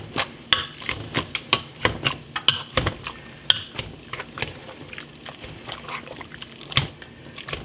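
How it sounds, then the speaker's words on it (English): Tender cooked apples being mashed with an old-fashioned potato masher make irregular wet squelching thumps, repeated at an uneven pace in a pot, fairly close and with no talking. "I'm going to use this old-fashioned potato masher to just mash them up a little bit"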